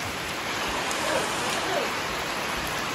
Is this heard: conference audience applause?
no